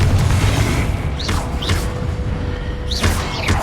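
Confringo blasting spells from Hogwarts Legacy go off in a continuous loud rumbling barrage, with several sharp whooshing spell casts cutting through the dense booming roar.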